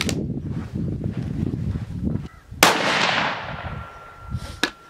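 A CZ 600 Trail rifle fires Winchester ammunition outdoors, with one loud, sharp report followed by a long echoing decay. A second sharp crack comes near the end, and wind and rustling can be heard before the first shot.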